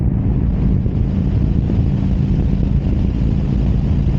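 Loud, steady wind roar buffets the microphone while riding a motorcycle at full throttle on the highway, a constant broadband rush with no letup and no talking.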